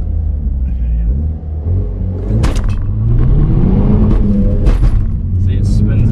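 A Vauxhall Astra VXR engine rumbles and revs as the car launches hard from 3,000 rpm, the exhaust swelling and rising in pitch over a heavy low drone, with people talking over it.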